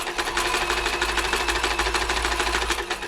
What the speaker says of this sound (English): let me just run it quickly, just check everything's going up and down and round as it should.